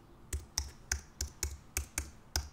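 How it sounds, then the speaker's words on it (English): Fingers type on a computer keyboard while entering a word for a cake topper design, about eight crisp, close keystrokes in a fairly even rhythm with no talking. "I'm going to this time type birthday"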